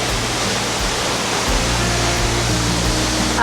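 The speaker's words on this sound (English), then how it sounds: "You're right in the waterfall." A waterfall roars up close, a steady, dense rush of falling water that fills the whole stretch without pause or change and drowns out everything else.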